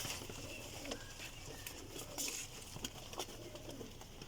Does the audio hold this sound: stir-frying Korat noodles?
no